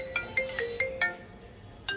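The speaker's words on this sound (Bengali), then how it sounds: "এই দেখো তো ফোন বাজছে" A phone ringtone plays a bright electronic melody of short plucked notes in a quick repeating pattern, fairly clear and close, with a brief pause before it starts again.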